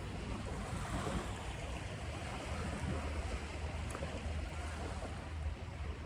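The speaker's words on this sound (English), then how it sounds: "I'm taking a walk, right, by the beach now" Ocean waves washing onto a beach, a continuous soft roar of surf with wind rumble on the microphone, fairly faint and steady with no voices.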